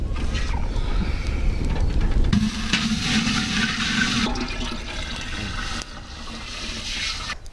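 Ten litres of water poured into a vessel for making vavilaku decoction in Srikakulam district, a continuous loud gushing splash that shifts in tone midway and keeps running to the end, with no talk.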